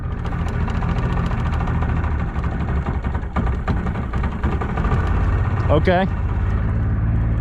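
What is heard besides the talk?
new boat's engine running while cruising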